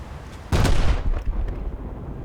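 Heavy naval guns of the German battleship Scharnhorst firing in a naval video game: one loud, booming blast at about half a second that rolls on into a long rumbling tail, with no talking.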